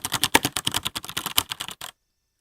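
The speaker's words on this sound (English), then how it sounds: "I've got a mechanical keyboard." Rapid clatter of a mechanical keyboard being typed on, a dense run of sharp, close key clicks for about two seconds before stopping abruptly into silence.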